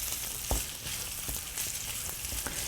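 Green beans stir-fry in a hot pan with a dense, steady sizzling hiss, broken by occasional soft scrapes and knocks of a spatula, close up and with no voices.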